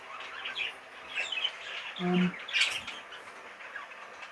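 Caged Fife canaries chirping and squawking indoors, scattered bright tweets and short calls at moderate distance, with one lower, louder squawk midway and faint background murmur.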